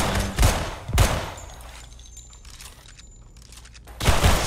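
Shotgun blasts in the Roblox game Decaying Winter: three loud, sharp reports, two close together and a third after a gap, with faint background noise between them.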